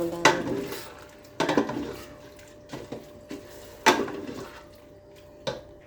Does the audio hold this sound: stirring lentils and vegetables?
yes